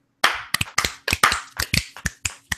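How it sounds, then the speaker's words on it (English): Scattered, uneven claps from a small group on a livestream, about a dozen sharp hits spread over two seconds with irregular timing, close and fairly quiet with silence between. "That was the weakest clap ever."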